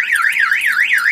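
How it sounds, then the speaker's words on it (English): Close, loud Dodge car alarm siren sweeping rapidly up and down in a repeating electronic whoop. "if somebody tries to blow out the window, the alarm will fire off"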